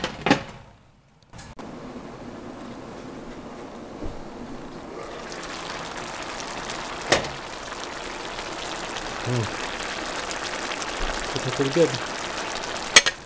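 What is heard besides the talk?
liquid cooking off in a hot pan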